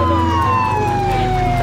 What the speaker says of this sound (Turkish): Açın yolu, ambulans geliyor.